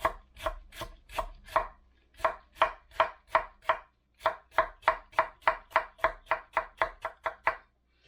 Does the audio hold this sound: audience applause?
no